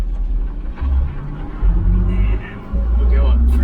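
A 1968 Jaguar E-type engine, long idle for a few years, rumbles steadily from inside the car while driving in third gear on a road, a deep low drone swelling and easing under continuous talk.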